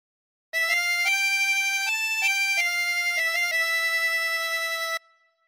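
A harmonica plays a phrase, a steady string of clear sustained reedy notes shifting between a few pitches, close and alone, ending abruptly.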